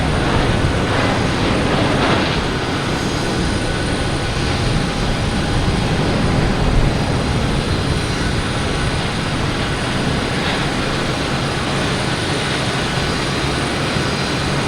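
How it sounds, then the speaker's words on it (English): A Lufthansa A340 taking off at Boston Logan Airport, its engines a loud continuous broadband roar that stays steady throughout, heard from nearby with no voices. "And we have Lufthansa, A340, got clearance to take off."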